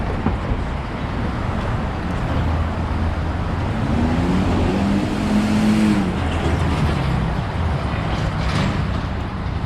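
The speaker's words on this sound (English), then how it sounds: "The cars and traffic are moving very smoothly." Car traffic on Canal Street in Manhattan forms a steady, continuous roadway rumble, with passing vehicles swelling and fading against the busy city background.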